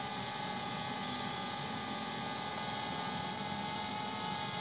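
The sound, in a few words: DJI Spark drone flying on waypoint autopilot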